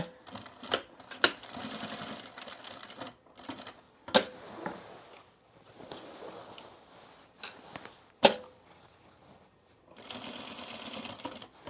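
A sewing machine runs a line of stitching across a cotton apron in short close-up bursts, its rapid needle chatter broken by pauses and sharp clicks.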